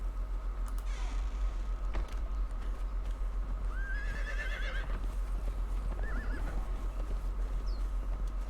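A horse in the video game Conan Exiles whinnies repeatedly with high rising calls while its hooves clip-clop steadily underneath, over a low constant game ambience, with no talking.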